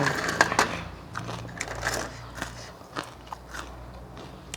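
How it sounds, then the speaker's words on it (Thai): Crispy pork rinds crunch under close, loud bites, with several sharp crackling crunches at the start. Softer chewing and crunching follows at irregular intervals. "กรอบ กรอบทะลุจอ"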